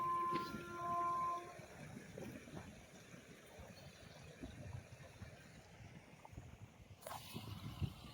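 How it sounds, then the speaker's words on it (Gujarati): A train rumbles past nearby with a steady low roar, a horn tone sounding at the start, and faint whooshing swells as it moves along. "देखो यहाँ पे ट्रेन आ चुकी है"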